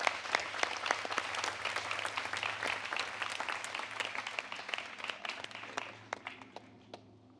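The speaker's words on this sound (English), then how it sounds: "Round of applause, please." Moderately distant audience applause at a talk event, with sharp individual claps standing out over the crowd, tapering off into a few scattered claps at the end.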